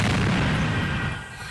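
Stun grenade blast during street clashes between protesters and riot police in Greece, a loud close boom with a rumbling decay that fades over about a second and a half, no voices.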